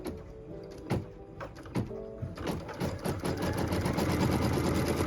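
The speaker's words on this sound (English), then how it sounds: "Then I simply take my fabric and place it completely over the placement line, and then I can stitch it in place." A sewing machine tacks fabric appliqué down over a placement line, starting after a few clicks and settling into a steady, close whirring run of stitches that builds and holds to the end.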